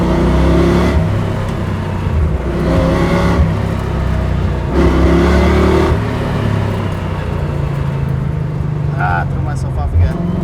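A 1966 Ford Mustang on a race track, its carburetor choking in left turns, roars close and loud as the engine revs rise and fall in repeated surges.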